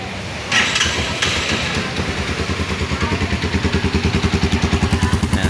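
A Motorstar Xplorer-2 250cc single-overhead-cam motorcycle with its stock muffler fires up and settles into a loud, close, rhythmic single-cylinder thumping idle with a steady regular pulse.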